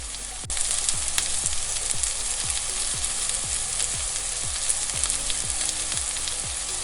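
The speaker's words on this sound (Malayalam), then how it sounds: "നല്ലപോലെ വാടുന്ന വരെ നമുക്കൊന്ന് ഇളക്കി കൊടുക്കാം" Vegetables for egg fried rice stirred in a hot frying pan under a steady, bright sizzle, with a regular series of scraping strokes from the spatula roughly every half second, close and clear with no talk.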